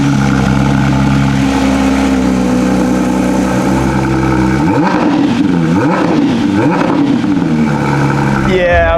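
A Porsche 992 GT3RS on its stock exhaust idles loudly up close, then blips through several sharp rising and falling revs in the second half.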